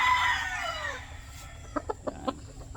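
Gamefowl breeder rooster, a Perfection Roundhead crossed with Gilmore, gives a drawn-out call that falls in pitch, then a few short, close clucks.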